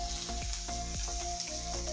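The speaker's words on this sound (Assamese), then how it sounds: "গৰম হৈছে, পিঁয়াজখিনি দিব পৰা হ'ল। এতিয়া ধুনীয়াকৈ পিঁয়াজখিনি দি দিওঁ ইয়াত।" Onions frying in about two spoonfuls of hot oil in a pan, giving a loud, steady close-up sizzle with faint stirring scrapes and no talking.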